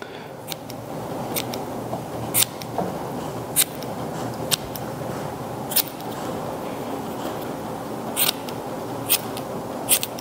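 Grooming scissors clip a Goldendoodle's fur in sharp, close snips that come at irregular intervals, roughly a dozen crisp cuts over a quiet rustling background with no talking.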